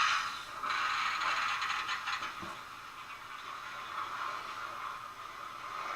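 Model train sound decoder starting up on the layout track, a soft mechanical whirring and clicking hum rising then settling into a steady, faint running drone.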